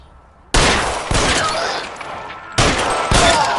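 A shootout in the L.A. Noire game erupts in loud, close bursts of gunfire, two sustained volleys separated by a short lull, with no talk.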